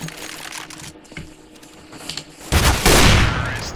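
Gunfire in a 1v1 video game match: faint clicks and small shots early on, then a loud close burst of rapid gunfire near the end.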